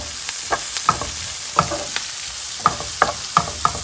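Red peppers frying in a pan for a shakshuka cheese bake, with a steady close sizzle and repeated sharp clicks of a utensil stirring and scraping the pan, no voices.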